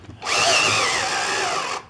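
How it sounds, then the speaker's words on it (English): A reamer cutting a clean hole in a part for a sewer slinger, a loud, steady whirring grind lasting under two seconds that starts and stops abruptly. "So we'll just go back in and just hand ream these."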